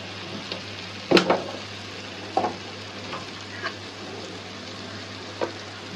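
Rohu fish pieces with lentils and ginger garlic paste frying in oil: a steady low sizzle throughout, with a few sharp clinks and scrapes from stirring, and no talking.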